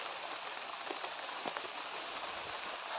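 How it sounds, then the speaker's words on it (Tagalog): Rain falls steadily outdoors as a close, even hiss, with a few brief louder drops spattering on a surface. There are no voices. "Umuulan na."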